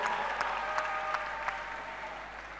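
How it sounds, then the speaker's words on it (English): An audience at a CII panel discussion gives a round of applause to welcome a panelist. Steady, fairly distant clapping from many hands fills the whole stretch at moderate volume, with a few sharper claps standing out. "Please help me welcome Mr. Jayesh Ranjan with a big round of applause."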